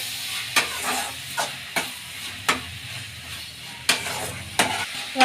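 Tomatoes and onions cooking in a pan for macaroni, with a steady close sizzle and repeated sharp scrapes of a stirring utensil at irregular intervals, no voices.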